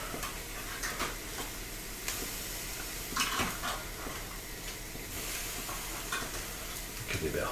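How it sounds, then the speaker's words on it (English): Food sears and sizzles in a hot pan as pieces are flipped with a fork, a steady frying hiss broken by scrapes and clinks of utensil against pan. "Give these a quick flip because I really just want them nicely seared."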